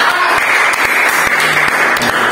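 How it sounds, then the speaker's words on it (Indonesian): Steady, loud applause from a crowd filling the whole moment, dense clapping with no pauses. "Sekali lagi tepuk tangan Binet."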